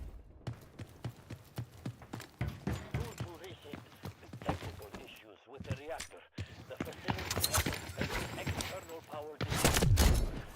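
Gunshots in the video game Delta Force, a run of sharp cracks and bursts scattered throughout, with a loud burst near the end, mixed with game sounds while a person talks over them.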